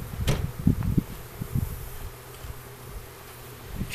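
Honey bees buzz around an open hive during an inspection, irregular close buzzing passes with soft thumps and handling noises, fading to a quieter hum.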